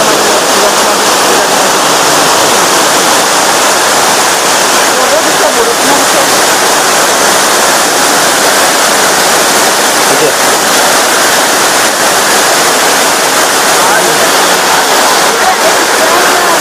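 Elephant Falls near Shillong in Meghalaya gives a loud, unbroken roar of rushing, crashing water, heard up close and steady throughout.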